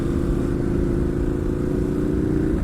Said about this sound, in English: most of the exhaust noise that you might hear is from that multistrada from the lead rider